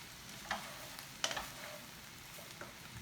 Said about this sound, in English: we're just going to mix these up just so there's no runniness to them